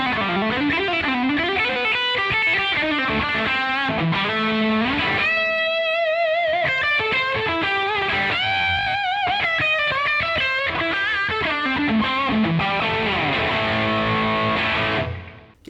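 Electric guitar played through a Victory V50 The Earl amplifier with no pedals, a loud, continuous run of distorted chords and melodic lead lines that fills the whole stretch alone before cutting off sharply at the end.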